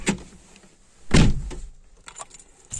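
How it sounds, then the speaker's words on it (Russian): Doors of a Nissan Primera P11 car are shut, a heavy thunk standing out among lighter clicks and knocks, close by with no talk. "То есть закрываем все двери."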